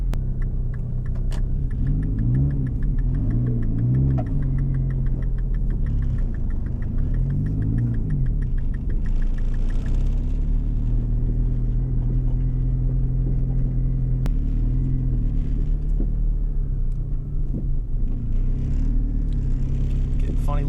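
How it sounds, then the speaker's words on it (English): A DSM 4G63 engine swapped into an all-wheel-drive Mini Cooper running on half an exhaust rumbles low and steady while driving, with a few deeper swells as it pulls, under occasional faint talk. "rumbly engine, half an exhaust."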